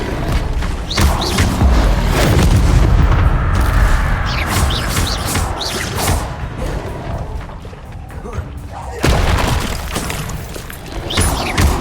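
A fire spell cast during Hogwarts Legacy gameplay, with loud, dense bursts and booming, crackling impacts that keep going for the whole stretch, dipping briefly near the end before another strong burst.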